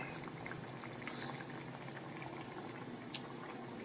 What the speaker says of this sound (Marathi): बघा आता हे व्यवस्थित उकळी आलेली आहे